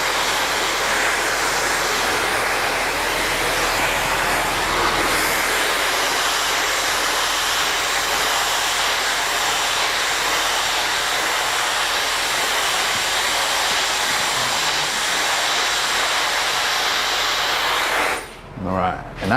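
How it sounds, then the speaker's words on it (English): A hair dryer blows a man's hair dry while it is styled into a traditional slicked-back cut, a loud steady whooshing roar that runs almost without a break before briefly switching off near the end. "So we're blow drying that other side."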